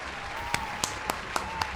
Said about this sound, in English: Here, I have a clap button.